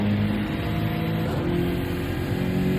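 A BMW GT car in a racing simulation at Suzuka pulls out of the Dunlop curve, its engine droning steadily and climbing slightly in pitch with a shift midway, loud and close with no talk.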